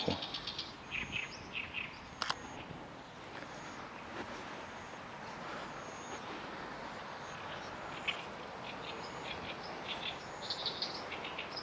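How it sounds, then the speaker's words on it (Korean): Several birds call and chirp in short repeated phrases in a wetland in Namyangju, South Korea, over a constant outdoor wash of ambient noise, moderately distant and fairly faint. "이쪽에 새들이 많기 때문에 또 새들 소리도 많이 들리고요"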